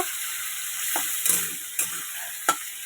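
Shrimp coated in salt and turmeric frying in oil, a steady hiss of sizzling with a few sharp spatters and spoon knocks punctuating it, close and uninterrupted by speech.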